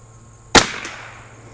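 A single sharp .22 rifle shot from an Anschutz 54 match rifle with RWS match ammunition cracks once, close and loud, followed by a short decaying echo.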